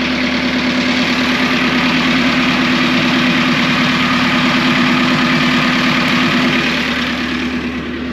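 A freshly started car engine idles close and loud with a steady, even rumble and a faint rattling vibration, holding constant and easing slightly at the end.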